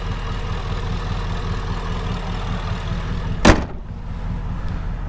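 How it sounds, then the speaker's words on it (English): A 2013 Ford F-150 SVT Raptor pickup idles steadily with a smooth, even low rumble, close and constant, broken once by a brief sharp knock or thump before the engine note settles again. "The engine sounds really healthy."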